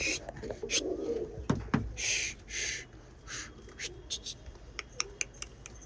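Pigeons, including a Teddy pigeon, coo in a loft during the breeding season, with soft repeated coos and scattered sharper calls and clicks under a low background hum.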